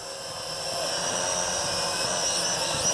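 A Venom Pro GPS streaming drone flies in an open park, its high, whining buzz holding steady and swelling slightly in loudness, with no talk over it.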